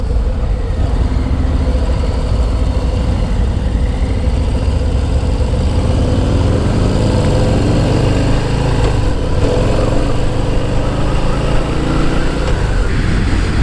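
A 2023 Harley-Davidson Low Rider S runs under way at a demo-ride event, its V-twin engine a loud, steady low rumble mixed with road and wind noise, continuous and close throughout.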